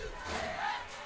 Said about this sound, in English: I'll try to turn down that crowd noise a little bit so that you can hear it